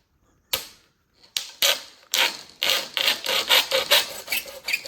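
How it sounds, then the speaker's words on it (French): A hand saw cuts during an electrical outlet installation, producing sharp rasping strokes at close range. After one isolated stroke the sawing settles into a quick, steady rhythm, with no talking over it. "Je prends ma scie."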